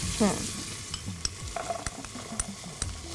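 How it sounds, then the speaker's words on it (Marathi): Green peas tipped into a pan of sautéed capsicum and vegetables for a paneer paella, with a brief clatter followed by steady stirring and scraping over a soft sizzle, close and alone. "आता आपण ह्याच्यामध्ये ग्रीन पीस टाकणार आहोत, हिरवे वाटाणे."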